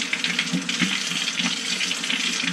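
Water running from a kitchen sink tap into a hole, a continuous bright splashing hiss at close range that stays steady throughout, with no talking.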